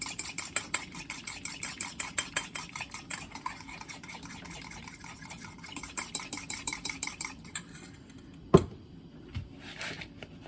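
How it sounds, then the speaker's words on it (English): An egg and applesauce are stirred together in a bowl, a quick steady series of scraping, clinking strokes from the utensil against the bowl, followed by a sharper knock near the end. "I've got 1 egg in this bowl and 1/2 cup of applesauce. We'll give it a nice mix."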